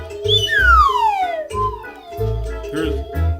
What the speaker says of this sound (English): What would the cartoons be without the slide whistle?